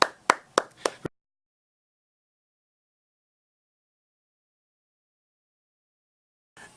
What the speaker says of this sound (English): Alright, round of applause to Blue Jacket.